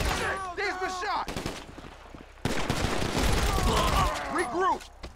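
Dense bursts of gunfire from a GTA 5 Online Los Santos Drug Wars mission, rapid shots and heavy blasts crowding together, loud and close, with shouting voices mixed in.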